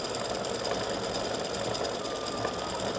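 A sewing machine runs steadily, its needle stitching a small craft piece in a continuous close, even buzz with no pauses or talk.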